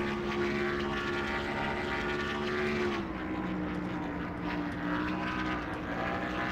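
A race car engine from the NASCAR Thunder 2000 video game drones at a steady, sustained pitch that dips slightly partway through, with a constant buzzing tone and no talking.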